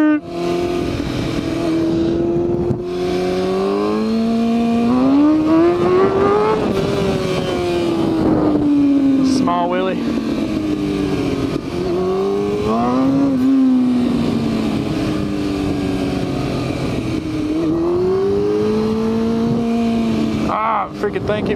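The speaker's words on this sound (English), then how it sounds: "You hear that? That's the fucking gears. I can't get it to go in gear." A vehicle's engine revs and strains while its gears grind and refuse to engage, the pitch rising and falling in long surges across the whole stretch, loud and close.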